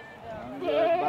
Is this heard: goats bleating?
yes